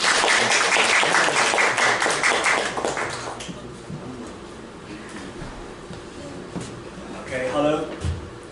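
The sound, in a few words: audience applause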